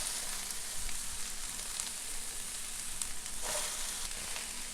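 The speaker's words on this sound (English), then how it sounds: "Let's add in our onions and peppers first." Onions and peppers sizzle steadily in a small electric skillet, a close, even frying hiss with a few faint stirring scrapes and no talking.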